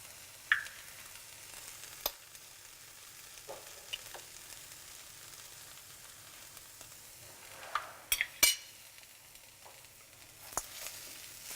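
Spinach and onion sweating in a hot pan give off a faint, steady sizzle, broken by a few sharp clicks and clatters of utensils, with no talking.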